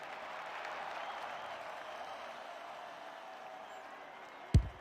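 A crowd applauds in the AFL 26 football video game, a soft, continuous wash of clapping that fades gradually, ending with a sharp thump.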